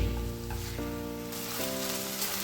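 Chowmein tossed with sauces in a hot frying pan gives a steady close sizzle under a few scraping stirs, with tonal ringing overtones from the pan running throughout.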